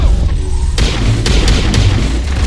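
A grenade explodes in the Mass Effect video game, landing as a loud, sudden boom with a deep thud, followed by further smaller bursts over ongoing game noise.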